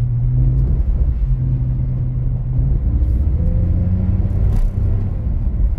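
A rear-wheel-drive BMW E46 drifting through an icy snow-covered corner, its engine a steady loud low rumble throughout with faint tonal revving rising and falling, no voices.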